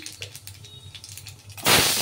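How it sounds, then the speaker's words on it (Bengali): Nigella seeds hit hot mustard oil in a kadai, first with faint crackles and then a sudden loud burst of spitting sizzle in the final moments, with no talk. "কড়াইতে সর্ষের তেল দিয়েছি, তেল গরম হয়ে গেছে। কালো জিরে ফোড়ন দিলাম"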